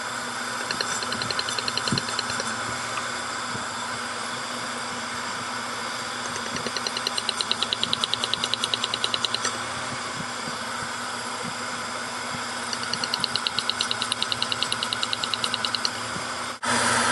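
Engine idling steadily with an ignition coil lifted out for testing, a continuous even hum with faint periodic ticking and a brief sharp burst near the end, no talk.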